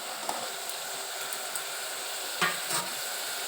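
Sorakaya (bottle gourd) curry cooks in a pan with a steady, fairly soft sizzle, and a few faint stirring knocks and a brief louder scrape rise over the continuous hiss.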